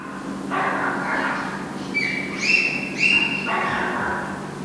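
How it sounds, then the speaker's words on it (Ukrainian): A dog barks a few muffled times, dull and distant, through a closed fourth-floor apartment door in Kharkiv, with quiet stretches between. "За цими дверима на четвертому поверсі чутно собачий гавкіт"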